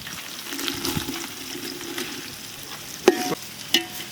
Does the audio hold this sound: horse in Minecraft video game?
no